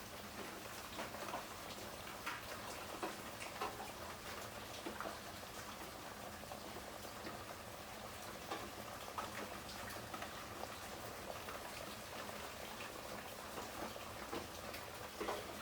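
Mango pulissery curry bubbling in a pot on the stove, a soft steady simmer with faint irregular pops and ticks, quiet and close with no voices.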